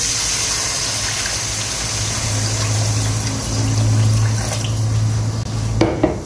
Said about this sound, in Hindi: 1 किलो तकरीबन पानी डाल देंगे।